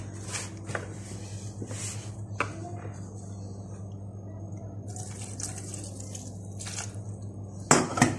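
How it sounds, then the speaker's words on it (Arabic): Milk is poured gradually onto flour and worked into dough by hand, heard as soft wet squishing and dripping over a steady low background hum, with no talking. "ننزل باللبن واحده واحده كده على الدقيق لحد ما العجينه تبقى حلوه معاكي"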